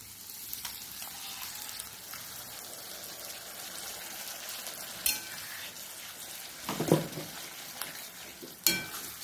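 Ground colocasia leaf bhaji mixture is tipped into a hot pan and stirred, giving a faint steady sizzle with a few louder scraping clatters of the spoon, no talking.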